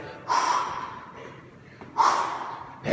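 Two forceful, sharp exhalations during an intense workout, close and loud, spaced about a second and a half apart with softer breathing between them.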